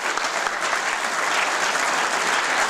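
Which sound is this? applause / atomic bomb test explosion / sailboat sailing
applause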